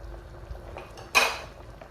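A spoon stirs okra draw soup with frozen fish in a pot, giving soft scraping sounds and then one sharp metallic clank against the rim, close by and without speech.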